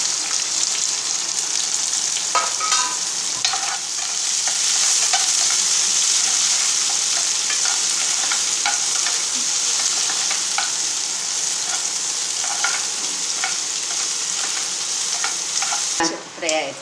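Onions, curry leaves and fennel seeds fry for an intestine curry, hissing steadily in hot oil close up while a spoon scrapes and stirs them in repeated strokes.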